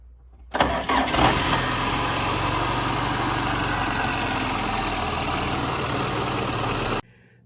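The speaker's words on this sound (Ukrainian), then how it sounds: "його пробував завести ним автомобіль" A car engine being started with a Baseus Super Energy 10000mAh jump starter: a sudden crank and catch, then a steady idle running for about six seconds before cutting off abruptly, with street noise around.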